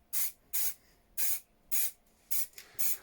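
Repeated short bursts of spray paint from an aerosol can, used on a custom Suzuki 1200 Bandit motorcycle project; six sharp hissing blasts in a steady rhythm, close and clear, with brief quiet gaps between.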